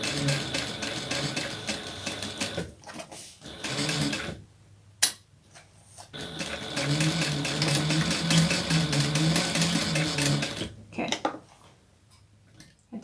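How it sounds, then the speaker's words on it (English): A sewing machine runs back stitches on a small quilt project, a fast mechanical whir and tick that stops, pauses and starts again in bursts, close and moderately loud with no talk over it. "Good back stitches on that one."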